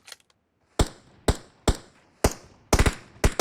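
Gunfire in the mobile battle-royale game PUBG Mobile: six sharp, loud shots arrive in quick irregular succession, some doubled into short bursts, each cracking out and decaying briefly, with no talk over them.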